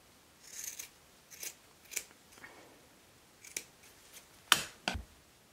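Scissors snipping a hobby horse's yarn mane, about eight short crisp cuts at irregular intervals, close and fairly quiet, with the last few snips sharpest.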